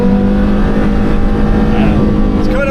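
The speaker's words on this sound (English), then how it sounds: "It just revs so freely because you've got like no flywheel" A Porsche Carrera GT's engine roars loud and close, revving freely with a sustained high, sharp tone that holds steady across the moment, with a hint of voice underneath.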